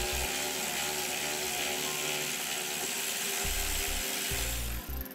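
A ratchet tightens a 5/16 bolt and nut while installing air helper springs on a 2008 Chevrolet, giving continuous rapid clicking, close and steady, under a dense mechanical background.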